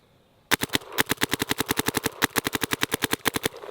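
A Luxe Idol paintball marker fires a long string of rapid, evenly spaced shots, sharp close pops in a fast steady rhythm with a brief hitch midway.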